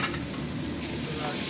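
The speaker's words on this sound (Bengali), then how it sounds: "আমি এখন এখানে দেব জিঞ্জার, গার্লিক," Ginger and garlic sizzle and fry steadily in a hot pan, a dense continuous crackle with light stirring, close and fairly loud with no voices.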